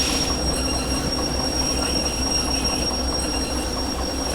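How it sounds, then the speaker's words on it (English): Train brakes on a freight train in the railway simulator Derail Valley squeal in a steady, loud, high-pitched whine over a continuous rumble of rolling wheels, with no talking. "I'm going to start applying the train brakes at this point"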